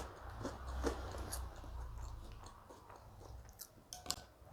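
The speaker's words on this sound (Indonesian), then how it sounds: "Kerupuk ini renyah banget ya." Crunchy kerupuk crackers being bitten and chewed close up, with repeated crisp crunches scattered across a few seconds and no talking.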